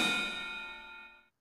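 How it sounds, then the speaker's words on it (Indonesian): A snare and the middle of a ride cymbal struck together on a real drum kit, one bright metallic hit that rings with a shimmering tone and decays over about a second before cutting off. "Kemudian ketuk secara bersamaan snare dan ride bagian tengah."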